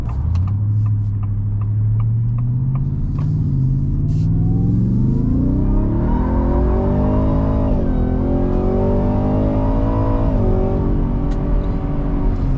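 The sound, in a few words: 2024 Ford F-150 Raptor R accelerating at wide open throttle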